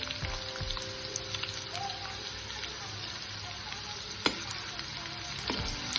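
Finely chopped onion sizzles in hot oil in a pan for a Maharashtrian bitter gourd bhaji, a steady close crackle with a couple of sharp utensil clinks near the end.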